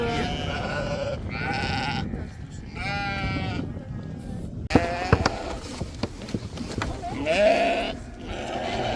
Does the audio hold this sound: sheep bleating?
yes